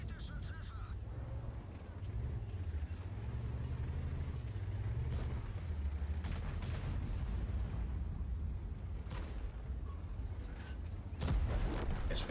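A tank gun fires in the World of Tanks video game, with low engine rumble throughout, scattered sharp cracks, and a louder close shot near the end.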